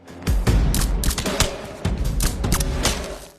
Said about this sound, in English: The sound suppressor is also far too quiet.